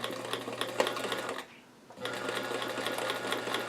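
A sewing machine stitches a doll dress in fast, steady mechanical chatter, needing oil, with a brief pause before it runs on again at the same close, even pace.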